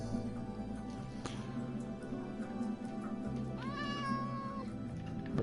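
A kitten meows in a video game while being struck with a gold sword, giving a drawn-out, rising and falling mew over steady game background noise, clear and fairly close.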